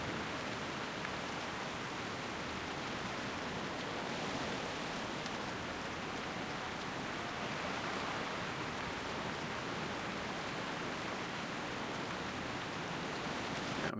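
Steady, dense rain falls continuously in the World of Warcraft Classic game world, an even hiss of droplets holding at one level throughout with no voices over it.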